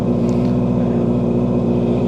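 A Honda motorcycle engine idles while warming up, a steady, low rumble continuous up close, with a constant throbbing tone and no talking.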